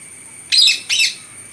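Pigeons kept at a home give two short, loud, close squawking calls in quick succession against a quiet background.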